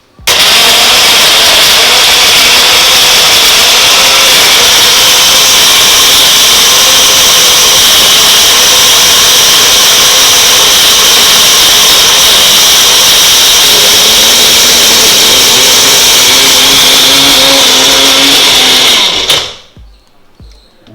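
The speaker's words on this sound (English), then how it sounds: "put it in my blender, and there's gonna be noise." A loud blender whirs continuously for many seconds with a steady high-pitched motor roar, then cuts off abruptly near the end.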